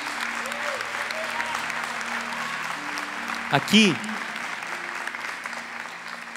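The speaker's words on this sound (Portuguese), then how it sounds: "Pode aplaudir esses guerreiros." An audience applauds steadily throughout at a talk on when human life begins, with a voice speaking over the clapping and a brief tonal sound rising near the middle.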